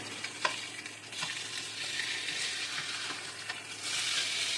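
A ribeye steak sizzles loudly in a hot pan after being flipped with tongs, a steady close hiss with a few sharp clicks and scrapes, the frying swelling louder toward the end.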